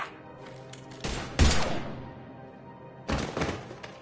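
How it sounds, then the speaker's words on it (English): Gunfire during a Mass Effect 3 firefight: a few heavy, thudding shots, one louder burst near the middle and another near the end, over quiet game ambience. "Now open fire!"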